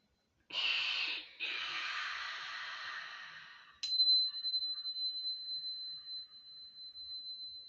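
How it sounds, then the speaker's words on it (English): A long deep breath during a calm wellness session: a steady breathy inhale, a brief pause, then a longer exhale, followed by a soft bell tone ringing out and slowly fading. No talking. "So let us take a long, deep breath."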